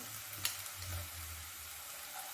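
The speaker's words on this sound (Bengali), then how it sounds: "পেঁয়াজটা নাড়তে নাড়তে এদিকে আদা কাঁচা লঙ্কাটা দিয়ে আদা রসুন কুচিটা" Onion sizzling in a pan with ginger and green chili while being stirred, a soft steady frying hiss with a faint clink of the spoon early on.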